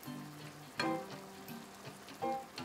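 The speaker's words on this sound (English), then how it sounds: "Now begins the laborious process of ladling in stock and stirring" Mushroom risotto with Japanese mushrooms sizzles softly in the pan as stock is ladled in and stirred. A spoon scrapes and clinks against the pot twice, and the sounds are close and moderately loud.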